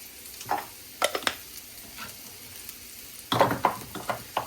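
Onions, carrots and garlic cooking in a pot for pot roast, with bursts of sizzling and stirring scrapes that come in clusters, loudest near the end, and no voices.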